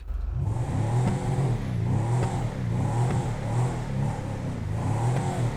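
Revving of a Chop Shop DLC car engine in GTA 5 Online, heard from inside the cabin: several repeated throttle blips, each swelling and dropping, loud and continuous with no voices.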